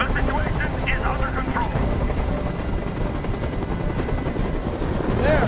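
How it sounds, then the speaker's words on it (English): A hovering helicopter in the video game Detroit: Become Human, a loud steady rotor chop filling the scene throughout, with voices shouting over it. "Tell that helicopter to get out of here!"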